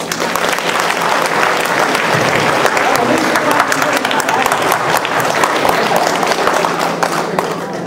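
Warm, sustained applause from an audience at a Dragon Boat Festival community gathering in Atlanta, a dense steady wash of clapping that runs without a break, with scattered voices underneath.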